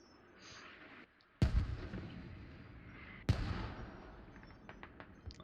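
Mortar rounds landing in a military video game, alternating smoke and fragmentation shells; two heavy, booming impacts a couple of seconds apart, each followed by rumbling debris, with faint distant pops in between.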